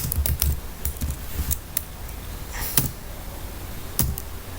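Keys clatter on a computer keyboard as a website address is entered, a quick burst of close clicks followed by a few scattered taps with pauses between them.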